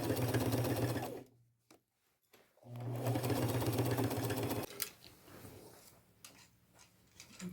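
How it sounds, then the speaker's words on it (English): A sewing machine runs in two steady straight-stitch bursts, sewing a patch onto a pair of jeans, with a short pause between runs and softer handling noises afterward. "I will sew them all straight stitch,"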